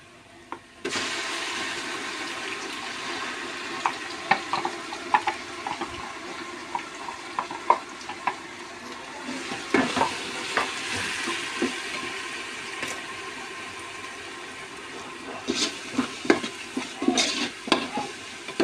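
Masala fries in oil in a pan for pulao, a steady sizzle under frequent sharp scraping and clacking strokes of a spatula stirring it.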